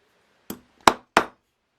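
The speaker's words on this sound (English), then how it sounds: "the more I'm hammering this piece of copper, the harder I have to hit this hammer to dome it" Three sharp metallic hammer strikes on copper being domed, close and isolated, each ringing briefly, the last two louder than the first.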